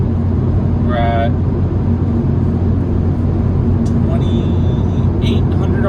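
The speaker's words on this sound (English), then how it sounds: "Right now, on the highway, 70 miles an hour, 6 gear" A Mazdaspeed3 cruises on the highway at 70 mph in sixth gear, a loud, steady low engine drone and road rumble inside the cabin, with a couple of faint high chirps over it.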